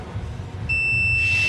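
A multimeter's continuity tester, probed on a C5 Corvette chassis, gives a sharp sustained high-pitched beep that starts partway through after quiet background hum and holds steady to the end.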